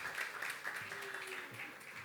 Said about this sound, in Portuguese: Uma salva de palmas para o Enzo